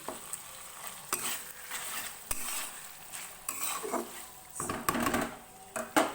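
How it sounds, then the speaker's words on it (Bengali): Spice masala with potatoes stirred in a pan for cholar dal, a soft sizzle under scattered spoon scrapes and knocks, close and fairly quiet. "মশলাটা প্রায় কষানো হয়ে গেছে, আলুগুলো মোটামুটি সেদ্ধ হয়ে গেছে।"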